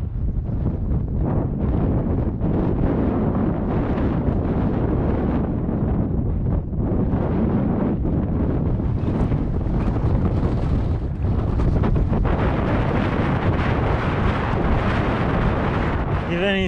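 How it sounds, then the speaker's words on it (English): Strong, continuous wind in Sudan buffets the microphone the whole time, rumbling and roaring, loud and gusty. "It's pretty windy."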